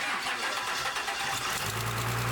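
A Cummins diesel swapped into a ramp truck cranks and catches, the grinding churn of the starter giving way to a steady, loud low idle rumble up close.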